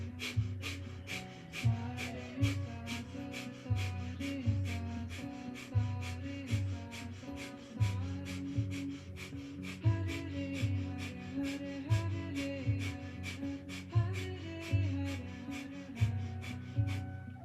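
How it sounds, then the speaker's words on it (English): Rhythmic, forceful breathing from a kundalini yoga kriya class, either rapid breath of fire or long deep breaths, pulsing steadily for the whole stretch under continuous background music with a regular beat. "either practicing breath of fire or long deep breathing"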